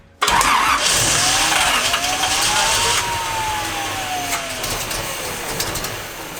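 A car engine cranks briefly and catches, revving up before settling into a steady idle nearby.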